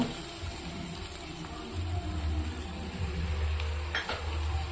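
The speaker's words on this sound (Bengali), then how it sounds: "মোটামুটি মশলাটা একটু ভাজাভাজি হয়ে গেছে ভাজাভাজি হয়ে গেছে" Spice masala for a koi fish curry fries in oil in a pan, giving a soft, steady sizzle under quiet stirring and scraping, with a brief utensil clink; no voices.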